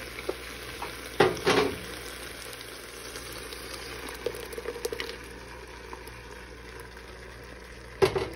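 Ground chile frying in a pan for caldo de camarón gives a steady, soft sizzle, with a few louder bursts of spattering and stirring clatter scattered through it.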